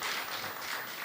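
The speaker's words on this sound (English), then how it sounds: "Round of applause for Mr." Audience applauding a speaker at a Ministry of Industry and Commerce programme, a steady wash of clapping from many hands throughout, with no voices over it.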